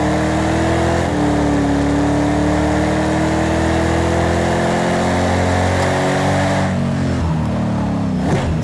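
Ford Mustang engine revving loudly in Project CARS 2 during a drift run, a sustained throaty drone that climbs and holds, then drops and swells again near the end.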